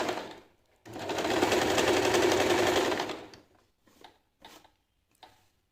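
An Usha Janome sewing machine stitching a pattern stitch, a loud, close, steady mechanical whir for about two seconds, then stopping, followed by a few faint clicks and handling sounds.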